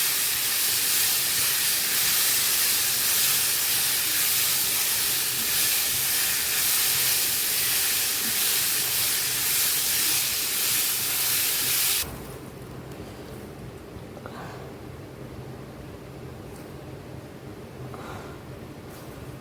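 Lentil mixture frying in a pan, giving a loud, steady hissing sizzle that drops abruptly partway through to a quieter, softer crackle, with no talking.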